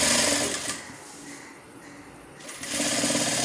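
A sewing machine stitches a gathered maxi dress in rapid bursts of close, rattling needle strokes, slowing to a quieter pause in the middle before speeding up again.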